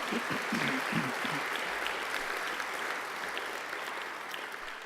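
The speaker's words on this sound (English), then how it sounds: "applause." Warm, sustained applause from an audience at a university graduation ceremony in a courtyard, dense and even throughout with a voice briefly audible near the start.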